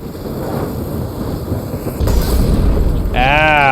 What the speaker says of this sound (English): Apparently weapons and armor explode in glorious fireballs.